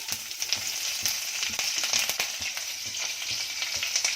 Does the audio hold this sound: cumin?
yes